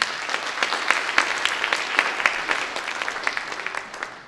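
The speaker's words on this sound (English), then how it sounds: "please give the organizers a round of applause" Applause from an audience at a digital innovation summit in Africa, dense hand clapping filling the room evenly and tapering off toward the end.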